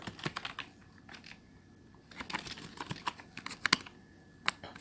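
Close keyboard typing while entering HTML meta tag code, bursts of crisp key clicks separated by short pauses, alone without voices.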